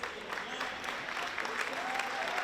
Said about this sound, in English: Nice applause from